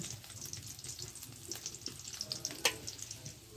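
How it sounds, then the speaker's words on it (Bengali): Onions, garlic and chilies crackle in hot oil, a faint, uneven sizzle with small pops and occasional sharp spits, heard close up with no voices. "পেঁয়াজ মরিচ এগুলো তেলের ভিতরে দিয়ে দেব দেখতে পাচ্ছেন"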